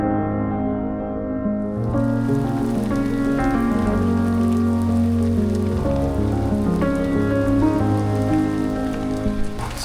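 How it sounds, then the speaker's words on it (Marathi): Heavy morning rain pours down continuously near Lakhpat Fort in Kutch, a dense steady drumming over a low, sustained tonal hum, with no speech. "आणि इकडे भरभरून पाऊस पडतोय"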